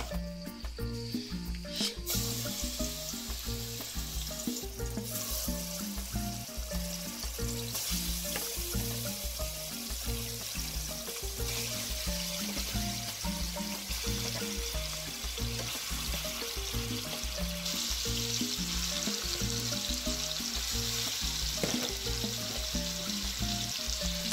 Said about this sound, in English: I'm going to grill it